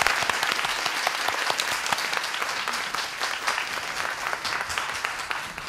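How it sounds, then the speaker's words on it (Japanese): A hall audience at a speaker audition event in Japan gives steady, sustained applause welcoming the next lecturer, dense clapping that holds at an even level throughout. "どうぞ皆様拍手でお迎えください。"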